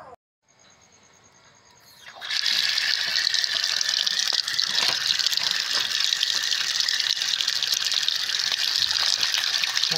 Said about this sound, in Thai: หลังจากที่เราแช่ไว้นะคะเราก็เอามาล้างน้ำสัก 3-4 น้ำนะคะ